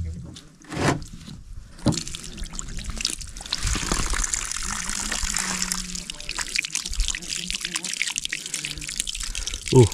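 Water pours from a spout at a fenced mountain spring on Mount Lawu, used for washing: a steady close splashing trickle with sharper spatters at moments and brief voices in the background.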